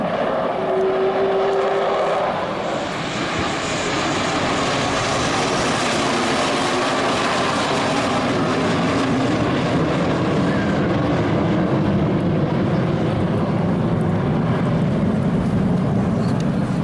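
A loud, continuous F-16 fighter jet engine roar at an air show fills the scene, a dense steady rumble and hiss with no pauses, close and powerful throughout.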